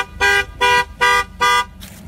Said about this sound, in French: si elle klaxonne, c'est évidemment que j'ai la clé dans ma poche et je me suis écarté de la voiture